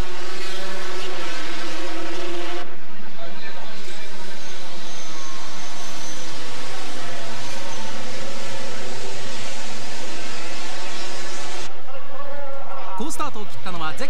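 A pack of 250cc two-stroke race motorcycles, Yamaha YZR and Honda NSR works bikes, at the start of a race at Tsukuba Circuit in 1986, their engines droning and revving loudly under a commentator's voice.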